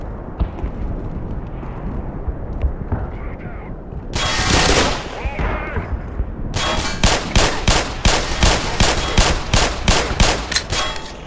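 Bursts of automatic and single gunfire from several enemies in the Black Mesa video game, rapid repeated shots growing denser and louder toward the end, with talk over parts of it.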